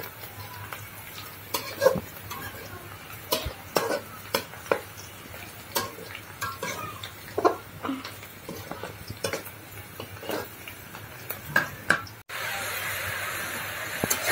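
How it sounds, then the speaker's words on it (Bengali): Onions and green chilies fry in oil while being stirred, a steady sizzle broken by repeated spoon-on-pan knocks and scrapes, with a louder, denser sizzle near the end. "শাক তেলে দেওয়ার জন্য এখানে পেঁয়াজ আর কাঁচামরিচ ভেজে নিচ্ছে।"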